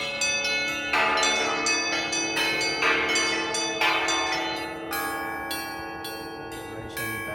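The Federation Bells in Melbourne play automatically in an open public setting: a clear, loud sequence of struck metallic bell tones, ringing one after another in a melodic pattern with long shimmering decays that overlap and layer.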